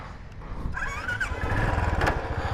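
A 2019 Royal Enfield Classic 350 BS4 single-cylinder motorcycle starts with a brief cranking whine, then settles into a steady, close, low thumping idle.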